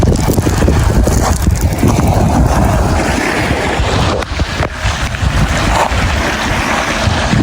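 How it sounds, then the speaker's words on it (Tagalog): Sea surf washes against a rocky shore in Negros, a continuous loud rushing of waves mixed with heavy wind buffeting the microphone. "Ito yung pinaka-dagat nila dito."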